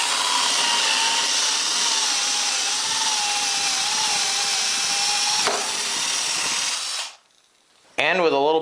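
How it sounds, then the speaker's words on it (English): A power drill bores a dowel hole in wood for a DIY barn door, with a loud, steady high whine lasting about seven seconds before it stops abruptly. A short voice follows near the end. "And then I just drill the hole."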